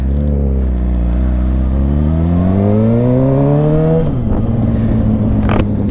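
A loud Suzuki GSX-R motorcycle engine revs, its pitch climbing steadily over several seconds before dropping back to a rough idle, close by.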